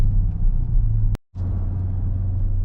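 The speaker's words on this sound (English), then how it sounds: "See, the supercharger whine is noticeable." Steady supercharged V8 drone from a Dodge Durango Hellcat SUV, a low rumble with a faint supercharger whine above it, broken by a brief dropout in the middle before resuming.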